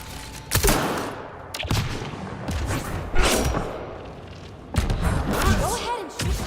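Gunfire in Mass Effect: Andromeda blasting through rock to reach a Remnant power node, with loud close bursts and heavy thuds repeating unevenly across the stretch, mixed with game voices and sound effects.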